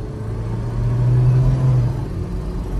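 A 1989 Toyota pickup with a 22RE engine drives down a road and shifts, its low engine rumble swelling steadily in the middle of the stretch and then settling again, with no talking.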